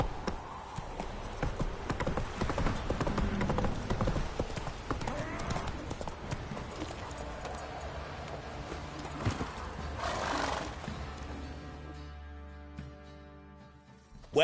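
Horse hooves galloping in The Witcher 3 video game, a steady rapid clip-clop across the whole stretch over game ambience and music, with a brief neigh partway through before the hoofbeats fade out.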